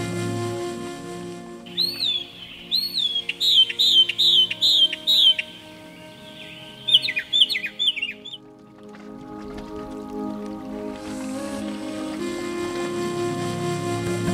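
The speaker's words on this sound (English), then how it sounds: "A couple of red-headed woodpeckers visited my bird woodhouse." Red-headed woodpeckers call at a wooden bird house, giving bursts of repeated sharp chattering notes in two runs, close by, over steady low background noise.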